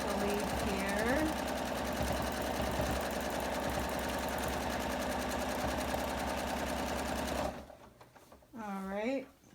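A sewing machine free-motion quilting swirls and leaves on a mini pineapple log cabin quilt runs steadily and loud for about seven seconds, then stops as a voice talks over a quieter background.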